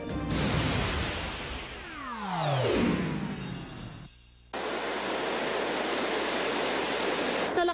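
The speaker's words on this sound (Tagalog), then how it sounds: "Taas ng agos ng tubig sa Wawa Dam" Rushing water roars through Wawa Dam in Rizal, a loud, continuous broadband torrent that dips briefly before surging back at full strength.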